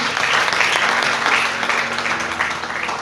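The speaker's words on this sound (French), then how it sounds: "Est-ce qu'on peut acclamer?" A church congregation applauds and cheers, dense, loud clapping filling the whole three seconds with a steady roar of many hands and no break.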